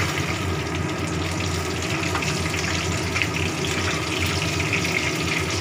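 Chicken pakora pieces fry in hot white oil with a steady, dense crackling sizzle that runs unbroken and fairly loud throughout, close by and without any voices.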